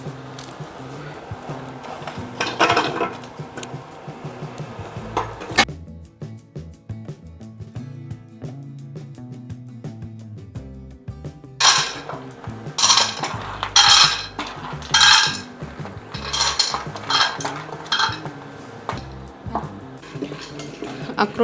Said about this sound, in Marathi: तर आता आपण इथे भाजून घेणार आहे सगळ्या एक एक वस्तू।